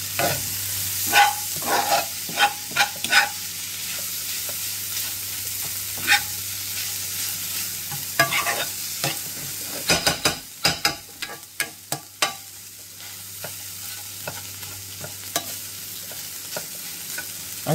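Egg frying and being mixed into steel cut oats chowfan in a pan, with a low continuous sizzle broken by a run of sharp spatula scrapes and clicks, close and loud, no voices.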